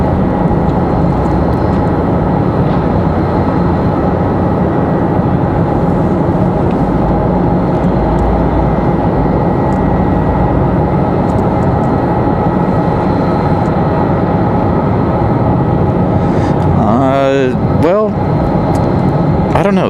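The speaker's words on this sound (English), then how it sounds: "Next arrival is going to be Delta 3245 coming in from Atlanta." A Delta Airbus A321-200 arriving at Raleigh-Durham from Atlanta produces a continuous heavy engine roar, loud and near, with a sweeping, wavering tone rising and falling near the end.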